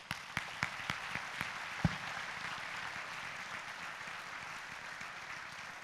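At a city State of the City event, an audience applauds its sponsors, opening with a few distinct claps before swelling into a sustained, moderately distant wash of applause.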